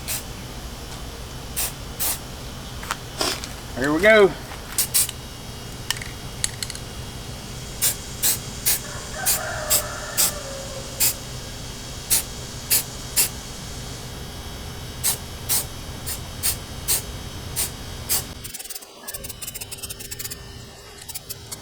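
Camouflage spray paint hisses through a stencil onto a duck-hunting boat in repeated short bursts, about a dozen evenly spaced puffs, close and clear, with a brief spoken remark near the start.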